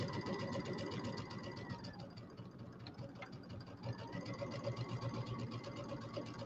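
A sewing machine runs steadily, stitching a quarter-inch piecing seam for a quilted table topper, its close, continuous mechanical hum and rapid needle rhythm filling the whole stretch with a brief easing midway.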